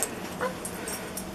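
A dog whimpers softly after performing sit and shake on command, brief high whines over quiet room noise.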